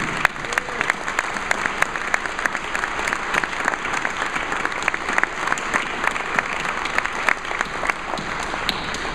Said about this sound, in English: let's just give a big, warm round of applause to everyone.